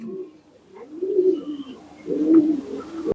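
Fancy shallow pigeons coo in low, rolling phrases close by, two main bursts with faint chirps and a brief rustle of movement at the end.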